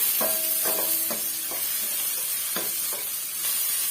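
Ingredients for a dal rasam are sautéed in a pan, giving a continuous loud sizzle with scraping stirs of a spoon against the pan at intervals throughout.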